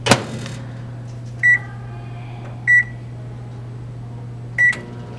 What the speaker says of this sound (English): place an empty bag of chips in the microwave for 10 seconds.